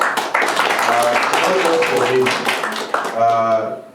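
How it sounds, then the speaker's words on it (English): Applause from an audience at a science prize presentation in a university hall, a brief burst of clapping at moderate distance mixed with voices speaking over it. "Please, a round of applause."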